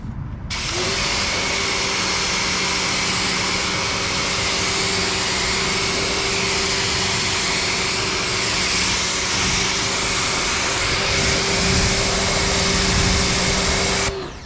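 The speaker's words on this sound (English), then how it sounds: "So let's just go ahead and start rinsing right now. Let me go ahead and adjust this nozzle." A water hose nozzle rinses a car finished with a ceramic coating, producing a loud, continuous, close hissing spray with a steady humming tone throughout.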